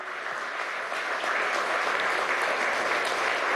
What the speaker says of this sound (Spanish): Mi saludo y mi aplauso desde aquí.